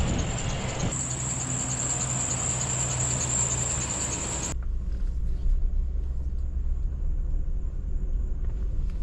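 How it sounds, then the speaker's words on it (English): A wrecked, cheaply bought SUV rolls down the road on a test drive, its engine and road noise forming a steady rumble with a high whine that drops away midway, leaving a lower, rougher hum. "take it for a little test drive"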